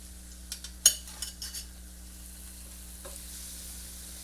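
Two hamburger patties going into a big pan, a sharp clack and a few quick scrapes and taps, then a faint, steady low sizzle with a soft scrape later.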